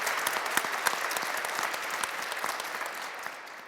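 A studio audience on a Kurdish health talk show claps for the program's editor, a steady crackle of many hands that keeps going at moderate level and fades slightly toward the end.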